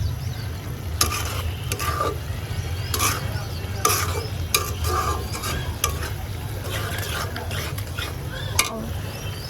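Soy sauce and chili powder cooking in a pan, a steady close sizzle with scraping stirs and clinking utensil strikes scattered throughout.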